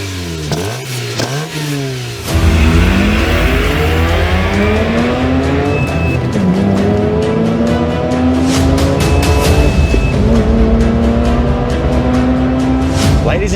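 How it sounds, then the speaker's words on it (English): A Wankel rotary-engined Mazda RX-8 revs hard and loud, the high buzzing engine note climbing through the gears as it accelerates, with a brief voice before. "we've finally got a Wankel rotary powered car on the channel"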